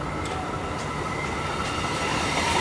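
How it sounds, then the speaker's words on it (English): An Extrapolis suburban electric train pulls into Laverton station in Melbourne, its steady, loud rolling rumble and wheel noise filling the platform continuously without pause. "we've got that Extrapolis arriving now."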